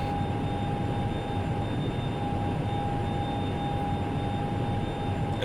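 Hawker 4000 business jet climbing steeply in X-Plane 11, heard as a steady, unbroken cabin roar of engines with a constant high whine sustained throughout, loud and even with no talking.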